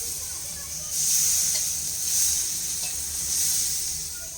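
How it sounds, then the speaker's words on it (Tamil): Hot water hits roasted semolina in a pan for kesari, setting off a loud, steady hiss that swells in bursts as the liquid pours and steam rises. "வெந்நீர் இதில் வந்து இதில் சேர்த்துடலாம்."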